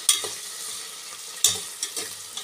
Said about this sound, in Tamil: இப்போ இஞ்சி பூண்டு பேஸ்ட் சேர்த்த பிறகு இதோட பச்சை வாசனை போகிற வரைக்கும் நல்லா வதக்கிக்கலாம்.